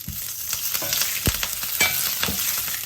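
Green chillies and curry leaves sizzle in hot oil in a pan while poha is prepared, a dense crackling fry with sharp pops and spits throughout, close and fairly loud.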